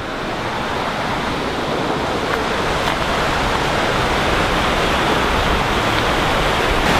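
Rushing water from a flowing stream in rural Japan fills the scene with a loud, steady broadband wash that never pauses, no talking audible.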